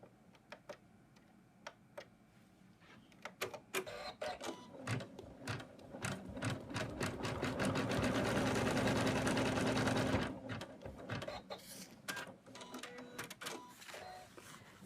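An in-the-hoop embroidery machine stitches a snowman stocking: irregular ticking needle strikes speed into a dense continuous whirring run for a few seconds, then break back into sparse clicks.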